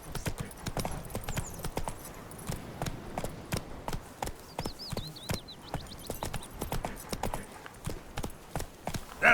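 Roach the horse trotting in The Witcher 3, a steady run of crisp hoof clip-clops close by, repeating evenly throughout with no talk over it.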